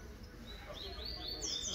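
A young capped seedeater (papa-capim) sings outdoors on a street, giving faint, thin high chirps and short rising notes over a low background hum.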